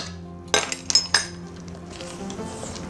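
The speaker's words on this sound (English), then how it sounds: "So we'll just stir it by hand" Pound cake batter being stirred by hand in a bowl, a few quick clinks of a utensil against the bowl followed by soft scraping, close and quiet.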